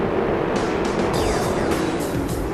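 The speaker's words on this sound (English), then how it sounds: "The engines have fired here at Michigan" Race car engines roar steadily in NASCAR Thunder 2003 at Michigan, a dense continuous drone of many stock cars idling and revving together, loud and close with no talk over it.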